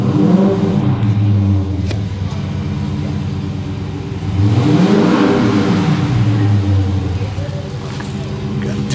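A 2023 Dodge Challenger engine rumbles heavily, then revs up and falls back in one rising and falling sweep midway through, loud and close with a deep, throaty tone while someone speaks.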